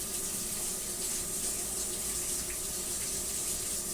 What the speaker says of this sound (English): let me get rinse my dish clean off